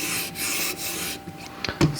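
A Benchmade 940 knife blade is drawn across a sharpener in a few light passes, giving a steady scraping rub that ends in a couple of short, sharper strokes, close and alone.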